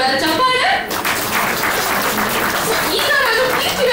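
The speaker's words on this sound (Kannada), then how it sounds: "ಸೂಪರ್ ಸೂಪರ್, ಜೋರಾದ ಚಪ್ಪಾಳೆ." Loud, continuous applause and clapping from an audience at a film event, a dense sustained wash of hands lasting the whole moment with faint crowd chatter underneath.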